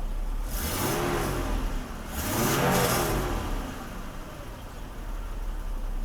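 A Mercedes W126 300SEL engine, just repaired after a fuel distributor fault, revs twice in quick swells that rise and fall, close by, over a steady idle.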